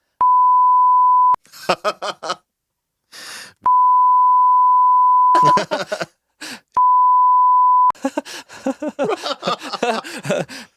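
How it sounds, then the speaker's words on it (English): Three long, steady electronic censor bleeps, each cutting in loudly between stretches of talking. "I'm gonna bleep them out."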